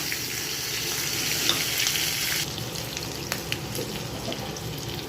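Cumin and mustard seeds sizzle in hot oil for a tadka. The frying crackles loudly and up close, then softens midway to a quieter sizzle with occasional pops, with no voices.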